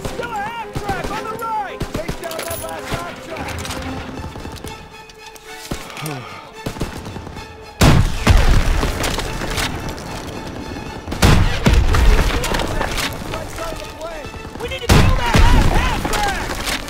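Rockets fired at a half-track in Call of Duty: WWII, heavy booming blasts and explosions amid steady gunfire, with a player talking over the noise.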